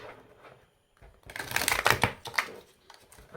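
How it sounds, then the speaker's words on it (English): Oracle cards being shuffled close by, a brief soft riffle and then a denser burst of rapid papery flicks that trails off. "Let's try one more shuffle."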